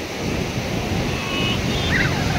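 Ocean waves wash steadily onto Puri Beach, a continuous loud roar of surf with some wind buffeting, no clear voices.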